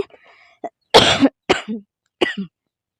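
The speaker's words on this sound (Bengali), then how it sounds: "প্রচুর পরিমাণে আমার কাশি হচ্ছে" Several sharp coughs from a person with a cold and fever, in separate bursts, close and fairly loud, with short silences between them.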